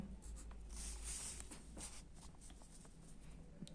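A pen writing out a geometry proof for a Class 10 Thales theorem lesson, giving a steady, close scratching on paper that lasts a few seconds with no talk over it.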